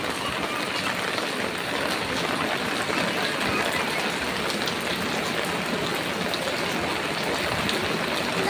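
Rain pours down steadily outdoors, a dense even hiss of falling drops that stays loud and unbroken throughout.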